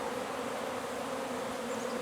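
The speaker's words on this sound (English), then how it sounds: "the bees are all coming out, I guess, doing a cleansing flight and such" Honey bees out on a cleansing flight on a mild November day after a cold October, a dense, steady swarm buzz that holds evenly throughout, close and alone with no talk.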